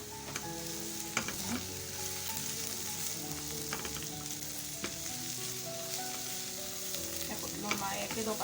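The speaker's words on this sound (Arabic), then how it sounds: "اقلب في البصل كده لحد ما يدبل معايا." Onion, then garlic, frying in oil in a pan, a continuous close sizzle with scattered scraping stirs and light utensil knocks throughout.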